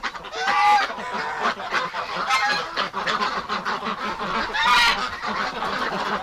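A goose honks repeatedly among wintering ducks and geese during extreme cold, the calls loud and close, coming in irregular bursts with rustling and shuffling between them.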